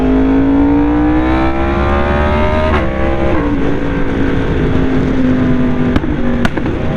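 A car engine blipping the throttle to match revs while downshifting, loud and close inside the car: a sustained engine drone whose pitch climbs and shifts, with short sharp blips near the end.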